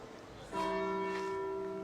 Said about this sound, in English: Wow, you can hear the church bell.